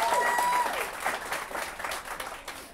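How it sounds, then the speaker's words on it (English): An audience at an interview session on a Malt Shop Memories cruise gives applause, a moderate, somewhat distant patter of many hands under brief overlapping talk. "You can applaud."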